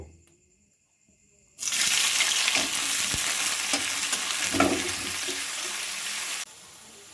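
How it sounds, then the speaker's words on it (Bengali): Chopped onion hits hot oil with dried red chilli, bay leaf and five-spice tempering, bursting into a loud, steady sizzle after a quiet start, with a few stirring clatters, then dropping back abruptly near the end. "পেঁয়াজটা আমার ভেজে নেওয়া হয়ে গেছে"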